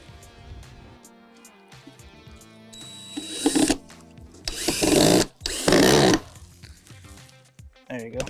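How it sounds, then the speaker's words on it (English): A cordless power drill drives a screw back into a homemade battery box charger, with three loud whirring bursts of a few seconds each between stretches of a person talking. "So now I gotta drill this back in."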